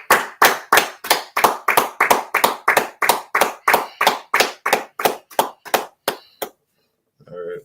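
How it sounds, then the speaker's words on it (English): A class of people claps in unison, about twenty sharp, evenly spaced claps in a steady rhythm, loud and close, then the clapping stops and a brief voice follows. "Let's clap it up"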